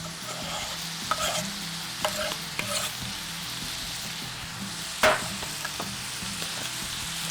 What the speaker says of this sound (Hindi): ये जो चॉप की भी मेरे पास ग्रीन चिलीज थी, ये मैं इसके अंदर शामिल कर रही हूँ